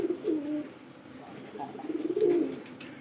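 Domestic pigeons kept for breeding give two soft, rolling coos about two seconds apart, fairly close and quiet, with faint background noise between them.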